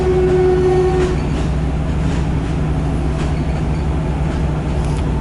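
Loud, continuous rumble of a train in motion heard from inside a carriage, with steady rattling and a brief tonal hum near the start.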